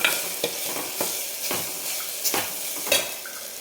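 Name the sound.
sautéing ground mung bean husks in pan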